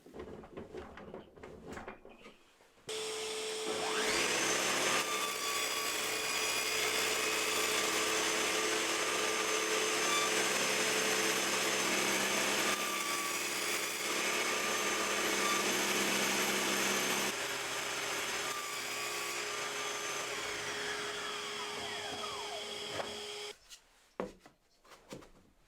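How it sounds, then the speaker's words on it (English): Saw blade set low nibbling rebates into wood, a loud continuous whining cut running about twenty seconds with slight pitch shifts, starting and stopping abruptly, no talking. "now I'm going to have the blade only up a few mil and then nibble away to get these rebates cut"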